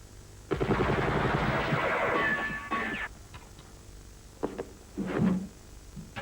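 Sustained rapid machine-gun bursts from a war-film battle at a village with a church belfry, mill house and pub, a loud dense rattle for about two and a half seconds, then scattered single shots and thumps trailing off.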